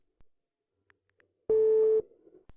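A single steady telephone tone sounds for half a second between faint clicks and handling noises.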